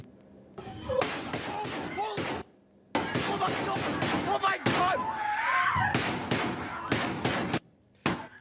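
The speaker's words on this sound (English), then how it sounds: "you can hear the shooter firing gunshots in the background" Loud, sharp gunshots repeat in irregular bursts amid muffled, distorted voices and background noise, recorded during a school shooting.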